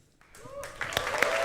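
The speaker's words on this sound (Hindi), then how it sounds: "जोरदार तालियां उसके लिए." Studio audience applause and cheering swell on a comedy show with Sunil Grover, Krishna Abhishek, Kiku Sharda, Rajiv Thakur and Archana Puran Singh, starting quietly and growing into a dense, sustained roar with a few louder peaks.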